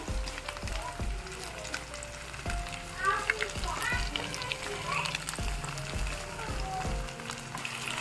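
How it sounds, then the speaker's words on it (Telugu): Green masala fish pieces sizzle and fry steadily in a hot pan, a continuous crackling hiss with occasional spatters, while a person talks over it. "ఇప్పుడు ఇంకా కొంచెం వేగాలి ఇవి"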